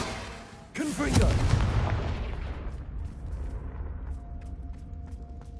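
Fiery Confringo spell cast in Hogwarts Legacy: a sudden loud blast after a moment of quiet, followed by a rumbling burst that slowly dies away under faint background sound.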